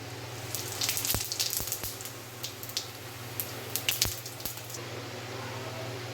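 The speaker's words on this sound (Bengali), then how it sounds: "এবার আমি মাংসের জন্য জিরে ফোড়ন দিয়ে দেবো" Cumin seeds sizzling in hot oil for tempering, ahead of onions going in for a light mutton and potato curry: a steady faint crackle with sharp pops and spits scattered throughout, no voices.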